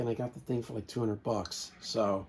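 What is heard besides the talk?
None of the usual background noises is heard.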